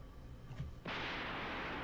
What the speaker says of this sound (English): The explosion must have warped supporting beams everywhere.